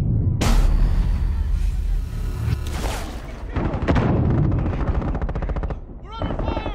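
Automatic gunfire in Rainbow Six Siege during a bomb defusal round, loud close bursts and booming shots, followed by a rapid rattling volley and a sharp final burst.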